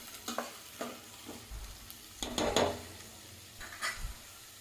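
Four large onions frying until brown, heard as a low sizzle under a series of distinct stirring scrapes and soft knocks of a utensil against the pan, close and fairly quiet.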